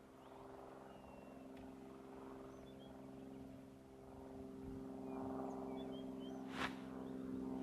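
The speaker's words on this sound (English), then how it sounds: "Very noisy aeroplane, just not helping us right now either." A noisy aeroplane flying overhead on safari drones low and continuous throughout, with faint bird calls and a brief sharp burst near the end.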